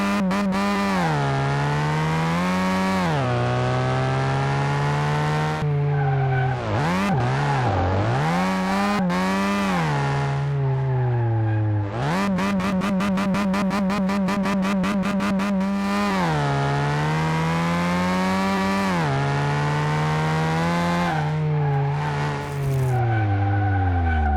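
Car racing around a track in the video game Car Mechanic Simulator 2018: a loud engine revving up and down through gear changes, with sharp pitch sweeps and a rapid buzzing stretch mid-way, continuous and without talk.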